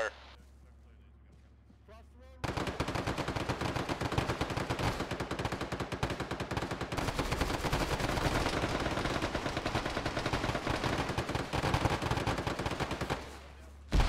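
Gunfire breaks out in an Arma firefight on the Virolahti map, with sustained automatic bursts and scattered shots rattling loudly for about ten seconds after a quiet opening, then cutting off abruptly.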